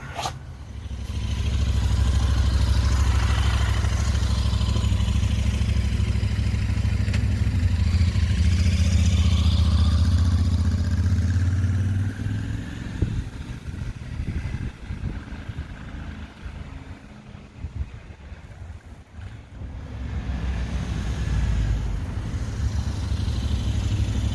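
A motorcycle being ridden, its engine droning steadily and loud for most of the stretch, with a rougher, dipping patch midway before the steady engine note returns.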